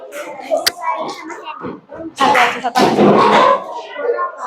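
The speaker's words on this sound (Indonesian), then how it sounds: "sekarang tepuk tangan dulu ke kelompok Afrika" A classroom of children claps for a student group, a short burst of loud, close hand claps following a single sharp clap and some chatter, with talk resuming between bursts.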